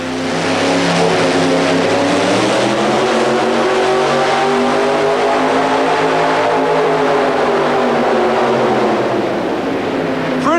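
A modified 4WD Ford truck, the orange Crush, roars loudly and continuously at full throttle during an indoor truck pull at the St. Paul Civic Center in 1991, its engine note rising and falling under strain.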